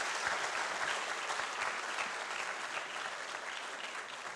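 Audience applause at an event honouring a professor and a project lead, a dense, steady wash of many hands clapping from a room full of people, sustained throughout and slowly tapering near the end, with no voices over it.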